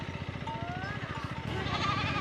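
Sheep bleat on a mountain road in the Darma valley, with a couple of wavering cries rising over a low idling rumble while people talk nearby.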